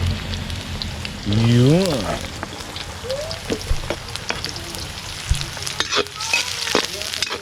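Steady hiss of heavy rain falling through a backyard outdoor cooking session, continuous broadband patter with sizzling from the pan mixed in, while people talk over it.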